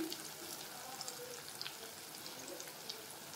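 Eggplant pieces for a vankaya karam curry fry in a pan with a faint, steady sizzling hiss and tiny scattered crackles throughout.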